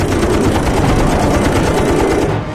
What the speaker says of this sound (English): The MiG pilot yanks the stick back. Kassler follows him through the dangerous maneuver, firing bursts the whole way